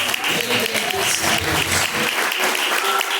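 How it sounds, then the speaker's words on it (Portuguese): Congregation clapping during a Pentecostal church service, dense rhythmic hand claps sustained throughout, with singing or voices mixed in underneath. "As palmas"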